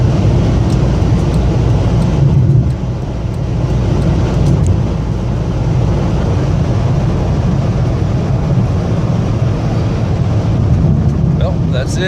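A Chrysler Hemi vehicle, driven after a design-flaw modification, gives off a steady, loud low engine and road drone heard from inside the cabin, continuous throughout, with talk in the background.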